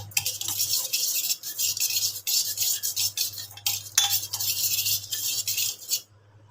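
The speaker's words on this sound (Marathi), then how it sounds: "आता हे पूर्ण साहित्य आपल्याला याच्यामध्ये मिक्स करून घ्यायचं" A spoon stirs yogurt into chopped salad ingredients in a bowl, giving a run of wet squelching strokes and light clinks against the dish, close up, before stopping abruptly near the end.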